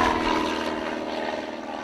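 A Scottish Aviation Bulldog propeller plane at an outdoor airshow drones steadily as it flies past, its engine hum holding at moderate loudness and fading slightly over two seconds.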